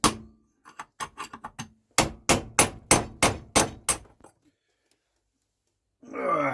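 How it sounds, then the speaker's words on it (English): Metal hammer blows drive out a spindle bearing outer race on a John Deere 42-inch cutter deck: a few scattered taps, then a rapid run of about eight sharp, close, ringing strikes, followed by silence and a brief noise. "keep hammering"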